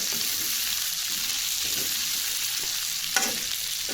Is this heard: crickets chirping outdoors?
no